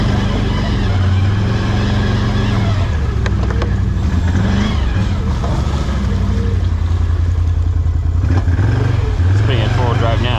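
A Can-Am Outlander 650 XMR ATV churns through mud in four-wheel drive, its engine droning loud and close with shifting revs and rising pitch, while people talk over it.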